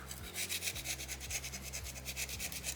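Sandpaper rubs back and forth over a small soapstone owl carving in quick, regular scratchy strokes, close up and alone.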